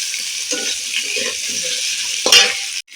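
Turmeric-coated potatoes fry in a kadai while being stirred, giving a steady sizzle with repeated scraping strokes and a sharper clatter near the end before the sound cuts off.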